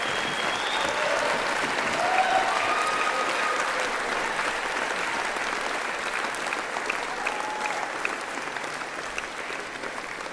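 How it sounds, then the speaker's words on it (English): Sustained applause from graduates and the audience at a university graduation ceremony, steady, dense clapping at moderate distance that fills the hall for the whole stretch without fading. "join me in a round of applause to say thank you to those who've helped us reach this milestone."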